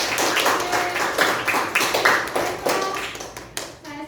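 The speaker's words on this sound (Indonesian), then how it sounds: "Silakan beri aplaus kepada diri kalian masing-masing kelompoknya ya." Students in a classroom applauding their groups, a burst of quick, overlapping hand claps and taps at close range that thins out toward the end.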